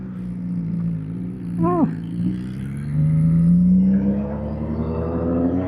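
A Honda CBR1000RR-R Fireblade SP engine drones under a ride, with a quick upshift blip marked by a brief rev dip and sweep, then the engine note climbs steadily again; wind noise and a voice are faintly present.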